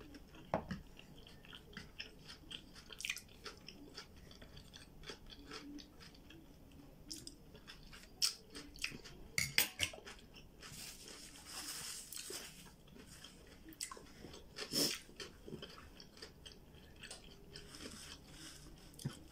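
Quiet, close-up chewing and soft squishy biting of sushi rolls with crab sticks, continuing steadily throughout with occasional louder crunchy moments and no talking.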